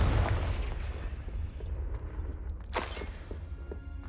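Confringo blasting spell going off in the Hogwarts Legacy video game, a loud booming burst with rumbling low end and crackling debris, a second sharp blast near the end, no talking.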